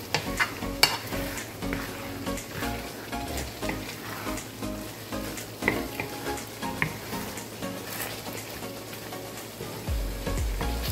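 Pork giniling with potatoes simmering and frying in a pan, a steady bubbling sizzle with occasional stirring scrapes and clinks running continuously throughout at moderate, close loudness.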